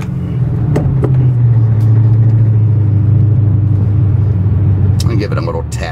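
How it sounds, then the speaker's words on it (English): A 2008 Ford Mustang Bullitt V8 idles close by with a deep, steady rumbling growl that holds throughout, with a few brief knocks and clicks near the end. "all the menacing sounds coming out of that big V8, the lovely deep breathing, the heavy growl"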